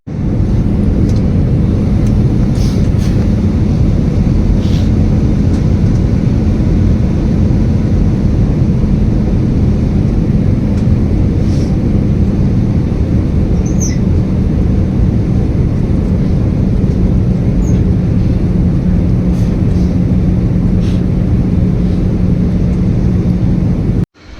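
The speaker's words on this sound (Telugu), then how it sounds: "అది టేకప్ అయిన తర్వాత మన స్టార్ట్ అవుతుంది వెళ్ళిపోతుంది ఆ ఫ్లైట్" A loud, steady engine roar with a low droning hum continues for the whole stretch, like a jet airplane building power for takeoff, heard from inside a passenger flight from Hyderabad to Bangkok.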